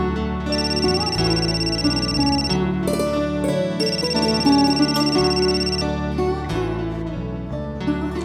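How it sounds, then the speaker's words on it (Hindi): A phone ringtone plays loudly and steadily in a Hindi TV drama household scene, a repeating electronic melodic ring with no talk over it. "अरे उठाना फोन।"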